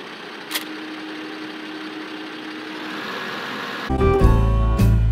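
A tractor engine idles in the farming video game Farming Simulator 15, a low steady hum for several seconds that gives way near the end to a louder, rougher rumble as the engine revs up.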